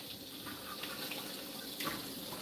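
Hot water runs from a tap in a sink while dishes are washed, a steady faint stream with occasional splashes and clinks.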